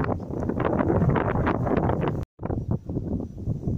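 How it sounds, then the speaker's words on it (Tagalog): Strong northeast monsoon wind buffeting a microphone in an open cornfield, a loud continuous rumbling roar with gusty swells and one brief dropout. "Medyo maingay, malakas yung amihan dito sa lugar namin ngayon."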